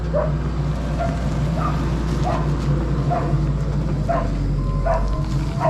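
A dog barks in short, spaced yaps from some distance over a steady low engine rumble.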